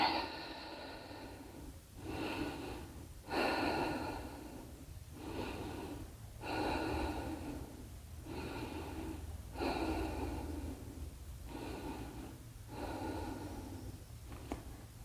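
Slow, deep breathing during a beginner hatha yoga session with sun salutations and hip openers: about eight steady inhale-exhale cycles, close and moderately loud, with no talking.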